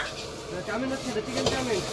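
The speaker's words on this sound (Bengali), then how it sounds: "দেখো লাইভ ভাজা হচ্ছে এখানে গরমা গরম" Chicken pakoras fry in hot oil at a street food stall, with a steady close sizzle and some stirring. Brief voices sound over the frying.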